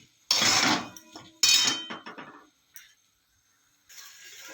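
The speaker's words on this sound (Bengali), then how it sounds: "এবার একটু ভালো করে কষাবো।" Spices being sautéed in a kadai, a spatula scraping and clattering against the metal pan in two loud bursts of stirring, followed by lighter taps and a faint sizzle, with no talking.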